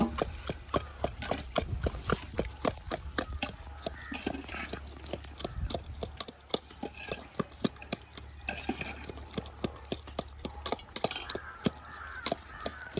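Onion and tomato pounded by hand in a village kitchen with a pestle in place of a mixer, giving sharp, close, repeated thuds at an uneven rhythm over low outdoor background noise.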